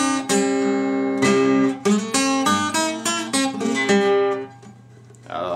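Close acoustic guitar plays a song's introduction, a steady run of picked notes and chord strikes with bright ringing strings and a brief trailing fade.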